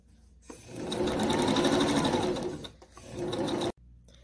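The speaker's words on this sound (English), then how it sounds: "I'm going to top stitch it today." A sewing machine top stitching a dress: a loud, steady motor whir with rapid needle clatter running about two seconds, a brief slowdown, then another short run that stops abruptly.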